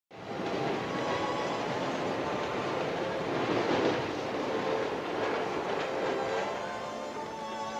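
Steady rumble and rhythmic clatter of a Chicago-bound passenger train rolling along the rails, continuous and fairly close throughout, with no voices over it.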